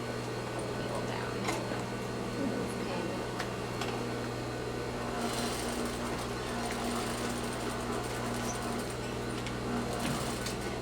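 A sewing machine stitching fabric whirs in a steady, continuous mechanical hum at a moderate distance, with no pauses in the run.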